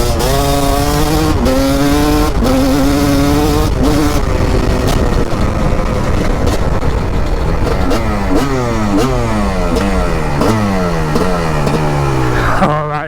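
A 2004 Kawasaki KX 250 two-stroke dirt bike revs hard and close, winding up through repeated rising pulls and brief gear-shift dips, its buzzing engine loud throughout.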